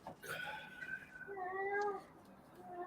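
A house cat meows and caterwauls in a drawn-out, wavering call, followed by a second rising meow, faint and somewhat distant over a steady background hiss.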